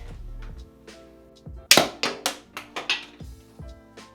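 A homemade pistol crossbow fires a practice dart at a frisbee: one sharp, loud crack, followed by a quick series of fading clattering knocks, close and with no voices.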